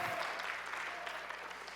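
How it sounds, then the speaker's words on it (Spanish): A church congregation applauds during a bilingual service, a faint, dense, even wash of many hands clapping held at a distance for the whole short stretch. "Give an applause to God."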